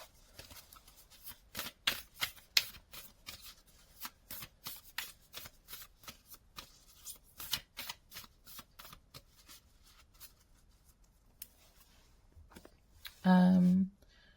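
Oracle cards being shuffled by hand, a steady run of crisp riffling bursts from a Flower Oracle deck, close and clear, ending with a brief louder rustle.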